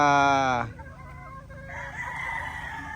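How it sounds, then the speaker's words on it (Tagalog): Gray pullets (young hens) cluck close by, with one loud crow-like call at the start followed by softer clucks, and a voice faintly in the background. "Napili na natin yung mga gray pullets"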